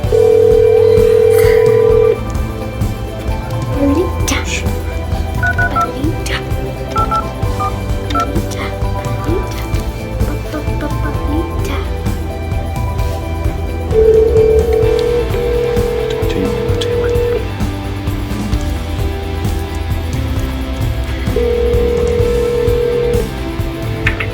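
Outgoing call from inside a car, several evenly spaced ringback tones repeating against a low road rumble, with occasional faint voices.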